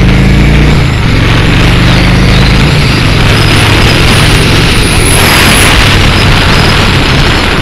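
A Honda Shadow RS motorcycle engine pulls under acceleration, a loud steady drone with its pitch stepping up and shifting, all under heavy rushing wind noise.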